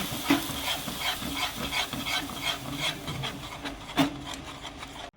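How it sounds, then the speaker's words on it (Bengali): A spoon scrapes and stirs thick rice pudding with a little added milk in a pot, rhythmic rubbing strokes repeating close up, with one sharper knock near the end. "এটা কিন্তু আমি ডাইরেক্ট পায়েসের মধ্যে দিয়ে সামান্য দুধ দিয়ে ভালোভাবে নাড়িয়ে নেব"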